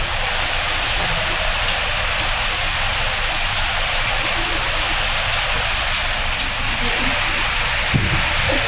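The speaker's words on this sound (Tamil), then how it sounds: "தமிழகத்தின் பல்வேறு பகுதிகளிலும் மிதமான மழை" Moderate rain falling steadily somewhere in Tamil Nadu, a dense, unbroken hiss of drops on surfaces that stays loud and even throughout, with no voices.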